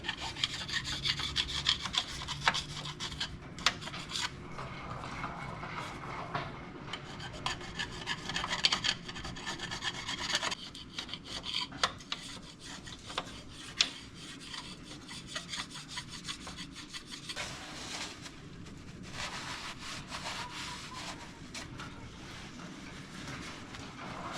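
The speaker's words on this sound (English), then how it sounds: "we'll take our gasket scraper, we'll go along the surface where this mounts up, and we'll get our surface cleaned up" A gasket scraper drags along the transmission mounting surface of a Jeep Cherokee XJ, giving long stretches of close, gritty rasping and scraping strokes in an uneven rhythm with sharper clicks mixed in.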